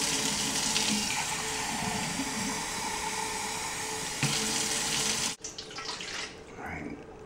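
Warm water pours steadily from a kitchen tap in a loud, continuous rush, then shuts off abruptly near the end, leaving quieter trickling and handling sounds.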